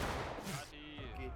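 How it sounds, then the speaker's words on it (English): Concentrated Confederate rifle volleys rattle across a War of Rights battlefield, a muffled fusillade of overlapping shots with a voice faintly audible in the mix. "Let's see how quickly that line's getting melted by that concentrated CSA fire."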